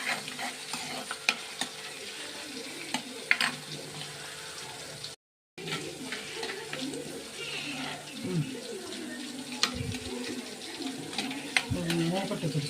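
Fish with its bones fries in a pan at home, sizzling and crackling softly alongside stirring clatter, with a brief break and faint talk nearby.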